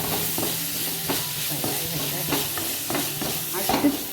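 Fish masala with small shallots being stirred in a hot pan, a steady loud sizzle with repeated scraping stir strokes close up, and no talking.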